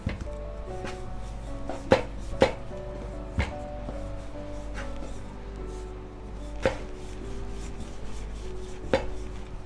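A knife cuts through rolled-out dough for pizza puffs on a board with sharp, irregular taps, close and clear, spaced every second or so.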